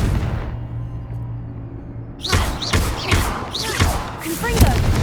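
Spell blasts in Hogwarts Legacy, a run of sharp bursts with crackling tails that arrive every half second or so after a quiet, humming stretch, loud and close.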